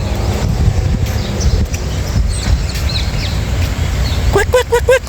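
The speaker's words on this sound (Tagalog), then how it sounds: "ay may ibon" Birds calling in a hotel garden at a Hilton Garden Inn, with a low wind and rumbling background, then a burst of clear, repeated chirping calls near the end.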